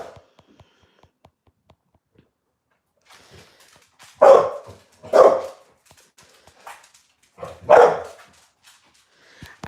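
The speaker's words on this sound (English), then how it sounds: "Stop barking, Dylan," A pet dog named Dylan barks indoors, a few faint yips followed by three loud, close barks spaced a second or two apart against near silence.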